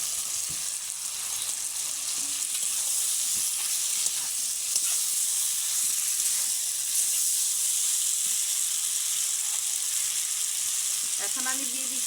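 Fried potatoes and cauliflower sizzle steadily in hot spiced oil, a dense continuous frying hiss with faint stirring and utensil scrapes near the end.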